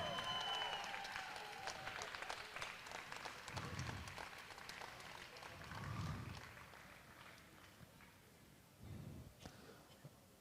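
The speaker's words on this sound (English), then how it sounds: "A round of applause for our under 105s and our podium." Crowd at a strongman competition applauding the podium finishers, fairly distant, steady clapping with a few louder surges and low thumps beneath, heard without talk.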